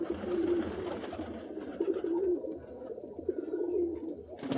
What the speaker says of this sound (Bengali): অনেক জাতের এখানে কবুতর আছে, অনেক দামি দামি কবুতর আছে